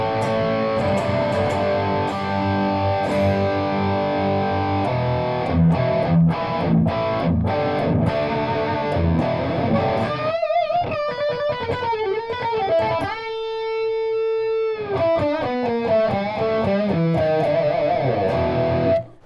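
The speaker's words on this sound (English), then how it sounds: "Here's the bridge pickup going into a PRS Mark Tremonti signature amp here." Electric guitar, an ESP LTD Snakebite, played through its bridge pickup into a PRS Mark Tremonti signature amp, a loud, continuous distorted riff with chugging palm-muted bursts and sustained ringing notes, with no voice.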